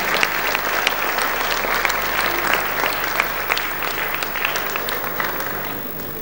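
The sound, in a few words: audience applause welcoming Morari Bapu to the stage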